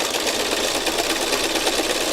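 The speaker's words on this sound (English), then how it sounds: "when I'm free motion stitching, I kind of like to have it where I can see it easily" A sewing machine running steadily while free motion stitching, a continuous busy mechanical whir with fine rapid texture, close and fairly loud, with no voices over it.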